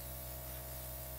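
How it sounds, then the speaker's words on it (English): A Crazy Liberty airbrush sprays temporary pink color in a steady, even hiss of fine mist, close and continuous for about a second, with no talking. "if you wanted to make it brighter, or keep on spraying more."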